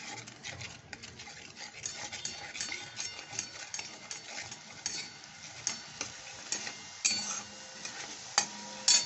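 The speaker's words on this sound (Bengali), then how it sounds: "ভালো করে একটু কষে নিতে হবে।" Leftover cooked rice stirred and sautéed over low heat in a pan, with soft scraping strokes and faint sizzling ticking along steadily, spatula taps punctuating the sound.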